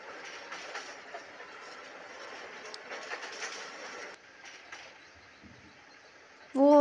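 A tram car in the Krasnolutsk map of a tram-driving game rumbles and clatters as it picks up speed on curved track, then the noise drops to a quieter rolling hum before a short tonal chirp at the end.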